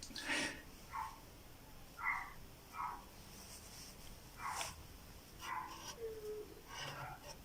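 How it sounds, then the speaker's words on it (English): A dog in the background gives a series of faint, short barks and whimpers, spaced irregularly through a quiet room. "I can hear my dog"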